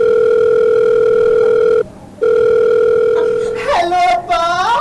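A phone call rings through with a steady electronic ringback tone in repeated beeps, one short gap between them, before a voice starts talking near the end.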